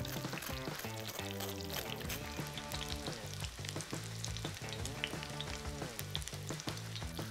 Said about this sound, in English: this piece of schnitzel looks like it is now done frying up